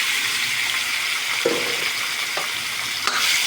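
Chicken frying in hot oil for a home-cooked chicken curry, a steady close sizzle with a few sharper pops and stirring clatters, no talking.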